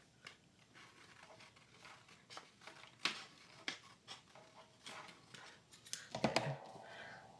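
Scissors cut a wavy edge into paper for a rose-themed journal, giving quiet, close snips and crisp rustles that come in irregular bursts, with a few sharper clicks and crinkles near the end.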